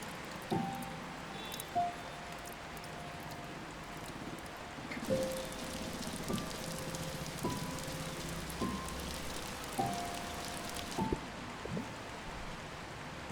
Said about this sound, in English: Hold on a second, it's raining.